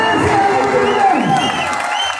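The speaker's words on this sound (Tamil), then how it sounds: "கைத்தட்டி" Spectators at a semi-final basketball match between PVK Karur and Tamil Nadu Police in Salem clap and cheer in a loud, close burst of mixed applause and shouts, with a commentator's voice running over it.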